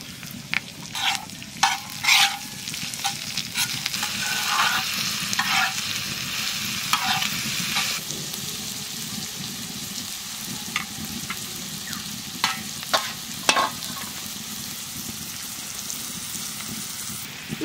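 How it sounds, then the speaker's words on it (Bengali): Curry leaves and onions fry in hot oil with a constant crackling sizzle, broken by frequent sharp stirring knocks and scrapes, loudest early on, with no one speaking. "তেলের উপরে কারি পাতা দিয়ে দেবো। এইবার পেঁয়াজ দিয়ে দেবো।"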